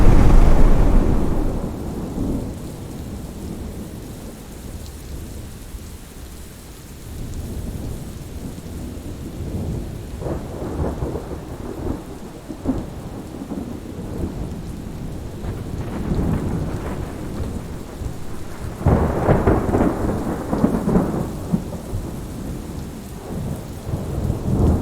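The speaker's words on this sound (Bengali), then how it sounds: "প্রচণ্ড ঝড় হচ্ছে পাঞ্জাবে" A heavy thunderstorm with rain in Punjab, heard from a roadside stop during a motorcycle ride: steady loud rain with repeated deep thunder rumbles rolling in and out, swelling again near the end.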